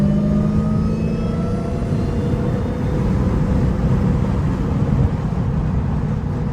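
A Dodge Hellcat's engine roars and whines steadily while drifting, a loud, continuous rumble with road noise that holds at an even level throughout, with no talk over it.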